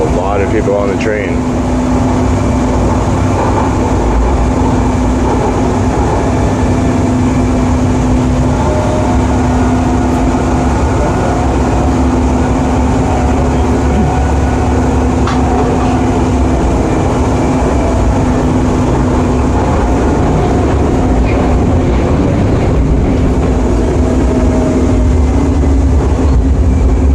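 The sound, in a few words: inside a moving automated train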